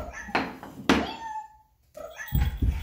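A child imitates a cat with a short, high meow during a kids' team-building game with blocks. Soft thumps and knocks come before and after the call.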